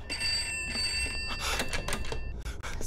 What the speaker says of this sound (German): Das Telefon. Es klingelt.